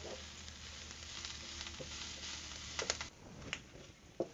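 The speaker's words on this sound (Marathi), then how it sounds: "थोडंसं आपण 1 मिनिट आहे ना कांदा परतून घेऊया." Onion sautéing in a pan for a crispy wheat-flour snack, a steady soft sizzle and frying hiss with a few light stirring clicks and taps near the end.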